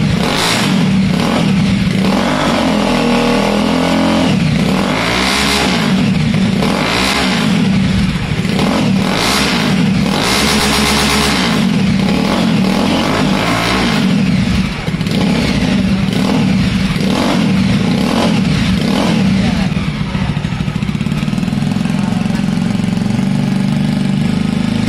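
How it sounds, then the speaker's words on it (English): A Jawa motorcycle fitted with a modified silencer revs loudly and repeatedly, its deep exhaust note rising and falling in throttle blips over a steady idle, close up with no talking. "So here is the sound of one of the Jawa which has that modification done."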